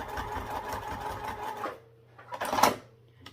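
A sewing machine stitches a zipper seam at half-inch allowance on a fabric sling, running steadily for about a second and a half, pausing, then whirring again in a brief, louder burst.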